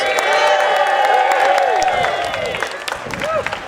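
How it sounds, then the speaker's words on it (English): A large crowd at a climate rally claps and cheers loudly, with whoops and high shouting voices rising over dense, continuous applause. "Let's give another round of applause for the Solidarity Singers."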